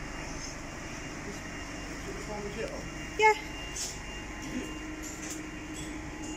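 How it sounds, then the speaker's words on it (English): The Southend Pier train starts up with a steady low mechanical rumble and hum filling the background, with a brief voice and a faint chime heard over it. "I think the train man's just started the train up."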